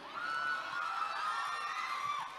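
Cheering, whooping and shouting from an audience after a stage performance at a welcome program, a dense, steady roar of voices sustained throughout, with no clear talk over it.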